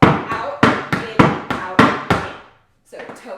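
Tap shoes strike a hard floor in Broadway-style toe-heel steps, seven sharp, evenly spaced clacks in a steady rhythm, then a short pause and softer scuffing.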